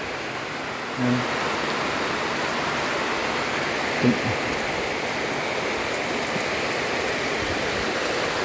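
Heavy rain pours steadily at night near a chicken coop, a dense continuous hiss with a couple of brief soft knocks partway through.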